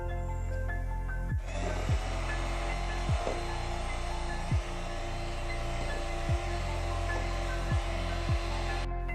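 An electric mixer beats chocolate cake batter with sunflower oil. After a brief hum it switches on to a steady, close whirring motor, with the beaters knocking the bowl in regular light taps.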